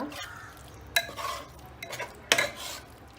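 Tomatoes are stirred into spiced masala frying in a pan, giving light scraping clinks of a spoon against metal over a soft, steady sizzle, with two sharper knocks standing out.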